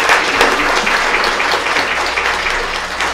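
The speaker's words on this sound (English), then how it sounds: "I invite the audience to please give our board a round of applause" An audience at a school board meeting claps for the board, a loud, dense round of applause that carries evenly through the whole stretch with no voices over it.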